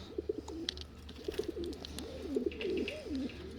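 A pigeon in a loft coos softly in repeated, rolling phrases, with a few light clicks and faint chirps in the background.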